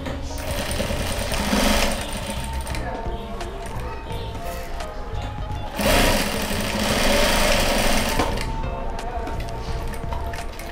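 A sewing machine stitches a sponge piece onto a fabric card holder, its rapid mechanical chatter rising in two loud bursts between quieter stretches of motor hum.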